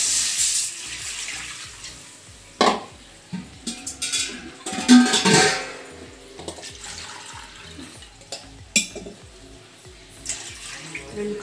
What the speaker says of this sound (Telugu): రెండు కప్పులు వాటర్ వేసాను నేను.